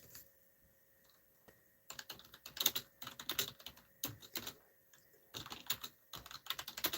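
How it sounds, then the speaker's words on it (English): Quiet keyboard typing, a few scattered keystrokes at first, then bursts of rapid clicking in uneven runs, close and soft, no talking. "I'm typing to you."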